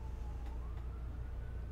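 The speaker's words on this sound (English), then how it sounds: "Is that really a siren?" A siren outside wails faintly at a distance, one rising tone drifting over low background rumble, with no talking.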